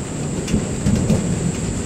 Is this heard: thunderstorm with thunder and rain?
yes